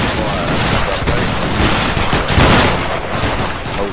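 Massed musket volley fire in a Battle Grounds III line battle, a dense sustained crackle of many overlapping shots lasting several seconds, loud and close with a brief swell midway.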